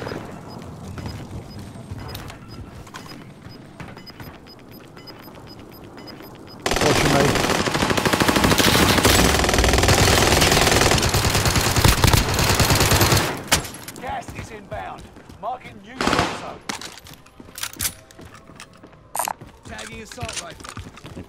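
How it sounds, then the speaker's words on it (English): Loud sustained automatic gunfire in Call of Duty: Modern Warfare, an intense burst of several seconds in the middle, with scattered single shots and mechanical clatter before and after. "Taking fire!"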